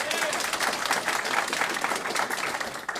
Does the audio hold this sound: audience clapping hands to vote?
yes